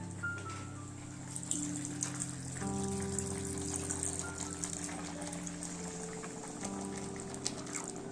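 Water gushes and splashes steadily into a cooking pot of small-fish curry, a continuous pouring sound heard up close with no speech.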